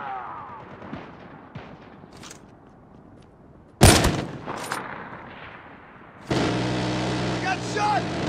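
Gunfire in the mobile shooter game Call of Duty Mobile: a sharp loud burst near the middle, then a sustained dense rattle of shots toward the end, over a low background bed of game ambience.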